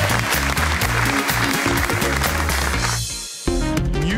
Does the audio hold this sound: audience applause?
yes